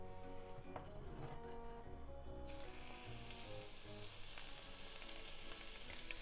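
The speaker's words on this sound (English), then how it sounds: "Let's cook the chicken first, with the skin side facing down." Chicken sizzles and spits steadily skin side down in a hot pan, a continuous frying crackle that grows brighter partway through, with no talking.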